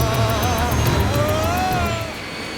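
Airliner jet engines spool up to go-around thrust in a dramatized approach, a loud sustained roar with rising whine tones that eases off slightly near the end, with no voices.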